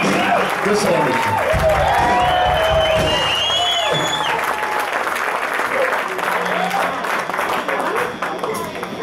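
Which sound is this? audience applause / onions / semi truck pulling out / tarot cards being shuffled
audience applause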